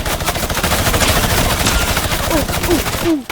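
Rapid bursts of gunfire in the Fortnite video game, dense repeated shots close and loud across the whole stretch, followed by a few short rising whistle-like tones near the end.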